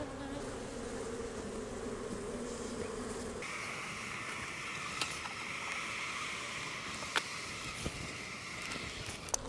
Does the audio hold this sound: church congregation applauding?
no